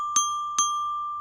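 Two close, clean mallet strikes near the center of a percussion bar, each a bright ringing tone that sustains fully and rings on between the hits.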